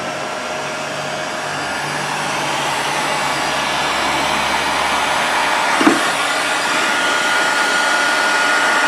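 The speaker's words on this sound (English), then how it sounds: "we're just shrinking some heat shrink here." A heat gun blows steadily while shrinking heat shrink tubing on silicone wire during a ham radio go box build, a continuous airy roar with a brief louder bump near the end.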